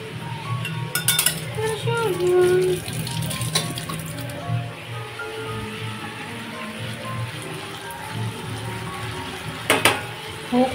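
Food sizzles steadily in a pan in a home kitchen, a soft continuous crackle with occasional clatters and scrapes of utensils.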